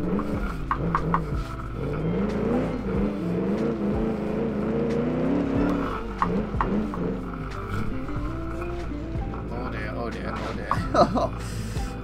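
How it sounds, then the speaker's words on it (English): A 1946 Gasmea car driving on dirt in the BeamNG video game, its engine rising and falling through revs with someone talking over it. "this car is not doing so as well in the dirt as the previous two"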